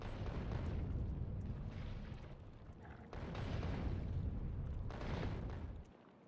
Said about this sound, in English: just gonna bombard where I hope I will get some hits.